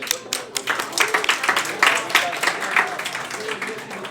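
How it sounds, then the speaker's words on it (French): An audience at a French-language science communication event for the general public breaks into lively applause, with dense clapping rising and falling over several seconds and voices mixed in among it. "On peut se donner une bonne main d'applaudissement."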